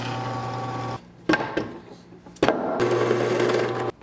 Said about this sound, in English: using this longer drill bit, going through the entire board